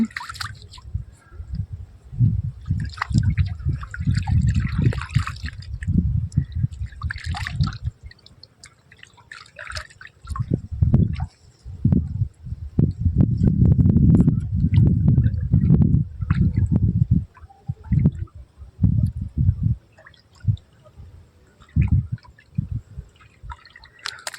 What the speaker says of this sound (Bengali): আমি এখন এই পুকুরটায় চান করবো